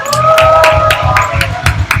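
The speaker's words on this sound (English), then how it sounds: "Let's give him a round of applause." An audience at a talk on data privacy and security claps loudly in a quick, steady rhythm, with voices calling out over the clapping.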